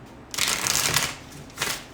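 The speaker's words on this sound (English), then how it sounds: "Okay, I'm gonna do your shuffle in a second." Tarot cards are shuffled in two quick riffling bursts, a longer one followed by a short one, close and crisp.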